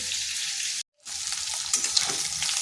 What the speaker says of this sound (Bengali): এদিকে এটা ভাজা হতে থাক